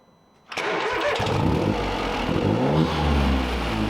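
A MK7 Ford Fiesta engine cranks and catches after a brief quiet moment, then runs loud and close with rising revs, smelling of fuel after sitting.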